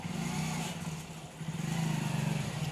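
A motorbike carrying passengers pulls away and rides off along a street during Eid festivities, its steady engine drone holding close and loud for under three seconds, swelling slightly as it moves.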